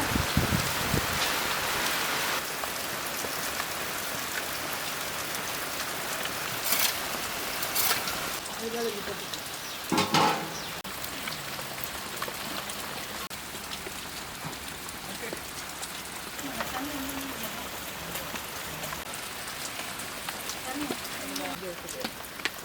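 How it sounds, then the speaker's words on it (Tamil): Heavy rain pours in a constant hiss with gusting wind, loud and steady throughout, while a voice speaks faintly beneath it at moments. "அந்த அளவுக்கு காற்றடிக்கு மழை பெய்யுது"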